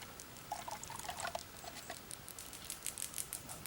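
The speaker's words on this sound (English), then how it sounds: "we'll basically pour this back and forth a couple of times" Solution poured back and forth between cups to rinse out pine needles, giving a soft, trickling patter of liquid in several short bursts, close and fairly quiet, with no voices.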